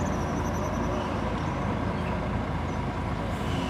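Marcopolo G7 1200 coach on a Mercedes chassis, Expresso Guanabara fleet number 855, at a roadside rest stop, with a steady loud diesel engine rumble running continuously throughout.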